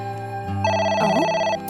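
In the video game A.I. The Somnium Files, a telephone rings with a loud electronic trill that has a layered, bell-like tone. It plays alone and up close.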